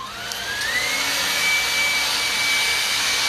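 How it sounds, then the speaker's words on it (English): A roughly fifteen-year-old blow dryer runs steadily and loudly, a broadband whooshing roar with a motor whine that rises in pitch during the first second and then holds constant throughout, with no voices. "Alright, got my blow dryer."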